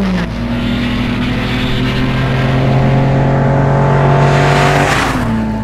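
An E-type Jaguar racing car, number 11, at a motor race, its engine droning loud and steady as it approaches, then shifting pitch as it passes close by.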